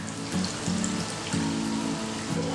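Egg bonda frying in hot oil, a continuous fine crackling sizzle with faint tonal music beneath it, holding an even level from start to finish.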